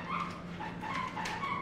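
A dog repeatedly squeaks a squeaky cookie toy in short, high-pitched bursts, fairly close and moderately loud, with no talking.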